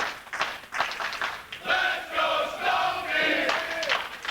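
Wrestling crowd at an indoor independent show roaring and chanting in sustained waves, loud and close, with scattered shouts and claps rising and falling throughout.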